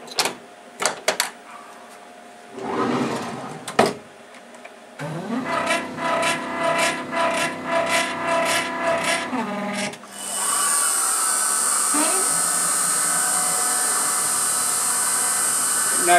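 An Emco F1 CNC machine drills a wheel hub with a 1.6 drill. A rasping, whirring cut pulses in short bursts, then settles into a steady, loud, high-pitched whine that runs to the end with no talk over it.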